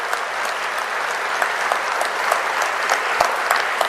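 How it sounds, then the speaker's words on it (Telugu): A conference audience at the World Telugu Conference in Hyderabad bursts into sustained applause, many hands clapping loudly and continuously with a few sharper claps standing out from the dense wash. "వారిని అందరూ కూడా గట్టిగా చప్పట్లు కొట్టి మనస్ఫూర్తిగా అభినందిస్తే"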